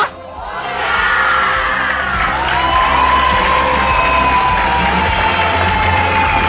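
A studio audience on the Indonesian comedy talk show Indonesia Lawak Klub roars with loud, sustained shouting and cheering that swells after a brief dip and holds steady, dense and close throughout.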